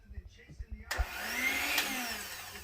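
A blender mixing casting investment for gold jewelry starts abruptly after a few low knocks and thumps, then whirs loudly and steadily up close.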